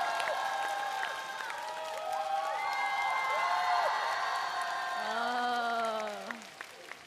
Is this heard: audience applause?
yes